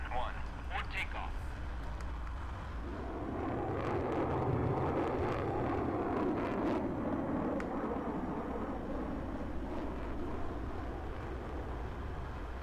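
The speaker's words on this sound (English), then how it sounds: "It sounds like they recorded a jet like flying over." Jet aircraft roar from a flight video game, a broad rumbling wash that swells after the first few seconds and holds steady to the end, with voices talking over it.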